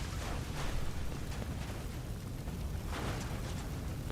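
A Fallout 4 explosion in a modded game, heard as a sustained low rumbling roar with a broad noisy wash and a couple of brighter swells, steady and moderately loud throughout, with no talk.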